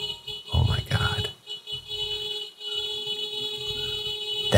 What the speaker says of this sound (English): That is the most aggressive beep I've ever heard.